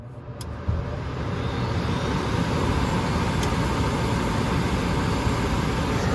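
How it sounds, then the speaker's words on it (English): A gas furnace draft inducer motor kicks on abruptly, then settles into a steady, loud whirring rush with a low hum that holds constant throughout. "So there goes our inducer."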